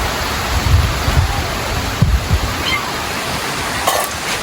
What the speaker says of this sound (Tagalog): Hindi lang po halata pero umuulan po. Manipis nga lang po ang patak ng ulan.